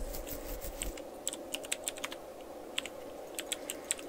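Someone types on a computer keyboard with irregular, sharp key clicks over a steady background hum, close and moderately quiet.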